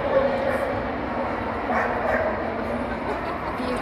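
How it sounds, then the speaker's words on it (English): At the Crufts dog show, dogs yip, whimper and bark among steady crowd chatter in a busy indoor hall, with people talking nearby. "Golden retrievers. Look at them."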